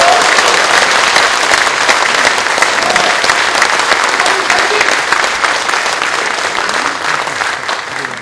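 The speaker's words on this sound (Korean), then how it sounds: "뜨거운 박수 한번 부탁드립니다" A rally crowd applauds a party leader, thick loud clapping that fills the space from start to finish and fades slightly toward the end, with faint voices and cheers mixed in.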